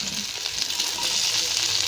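Okra frying in ghee, a steady bright sizzle with fine crackling spatters, close and continuous throughout.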